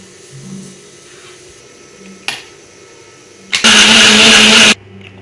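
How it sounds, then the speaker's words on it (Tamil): Electric blender grinding mango with milk for a milkshake: a loud, steady whirring burst of about a second, starting abruptly after quiet kitchen background and a brief clack, then cutting off. "இப்போ பாலும் இந்த பழமும் போட்டு அரைக்க போகிறோம்"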